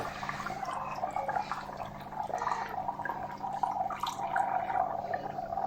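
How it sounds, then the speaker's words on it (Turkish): Dish detergent poured onto dry ice sitting in water, giving a steady close bubbling, dripping hiss of liquid and gas that runs unbroken and fairly even in level throughout. "İçine deterjan dökünce nasıl olur acaba?"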